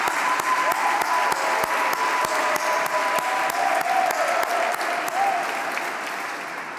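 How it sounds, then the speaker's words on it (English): Audience at a graduation ceremony breaking into sustained, dense applause that holds steady and then gradually fades toward the end, with a voice faintly heard beneath. "I think that you deserve an applause here"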